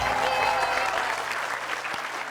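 Applause from a studio audience at an Indonesian comedy show, a steady dense clapping that holds loud and close for the whole stretch with no voices over it.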